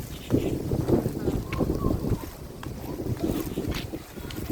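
Strong wind buffets the microphone outdoors, a steady low rumbling roar with gusty swells throughout and faint distant sounds above it.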